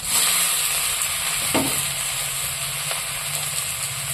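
Chopped tomatoes hit a pan of fried eggs, producing a steady, dense sizzle with a couple of soft stirring knocks, close and even throughout.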